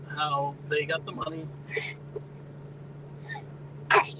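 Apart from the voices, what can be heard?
sneeze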